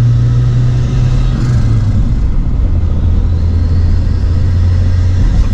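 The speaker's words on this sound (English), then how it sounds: "Other than the intake noise is the main thing. You get the loud intake. And the turbo noises." A 1997 Toyota RAV4 swapped with a 3S-GTE turbo engine drives on the road, its loud, steady engine rumble and intake roar droning continuously up close with turbo noise layered in.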